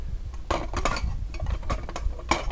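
Camping cookware, a plate, a pot for heating water, a small cup and a frying pan with a handle, is handled and knocked together in a rapid series of light metallic clinks and rattles, close and moderately quiet.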